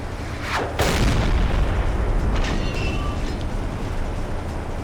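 A submarine deck gun fires in Silent Hunter 3, a heavy boom followed by a long rolling rumble of explosions and sea noise, loud and close, with faint distant cracks afterward.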